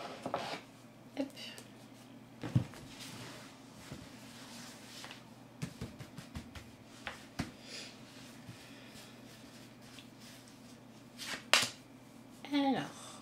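Soft rustling and light slaps of a tarot-style card deck being shuffled and cards drawn on a table, faint and intermittent in a quiet room with a low background hum.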